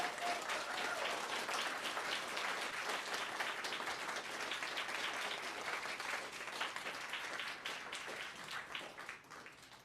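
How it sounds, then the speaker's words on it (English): Steady applause from a convention crowd in Saskatoon, many hands clapping continuously and evenly, fading slightly toward the end. "please, a round of applause for all these folks"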